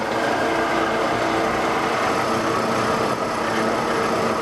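A metal lathe running up to 1,500 RPM with the workpiece chucked, giving a steady, loud mechanical whir and hum that holds constant throughout with no voices.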